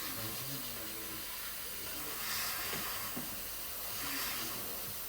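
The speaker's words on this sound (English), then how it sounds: "Hopefully my airbrush decides it's going to work." An airbrush sprays a mist coat of dark paint over a mask with a steady soft hiss, swelling slightly twice, while someone talks faintly in the background.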